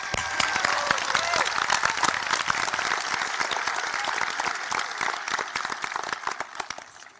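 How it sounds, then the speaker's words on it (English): A high school graduation crowd applauds tradespeople and soldiers, with sustained, dense clapping from a large audience that holds steady and then tapers off at the end. "Can we get a round of applause for them?"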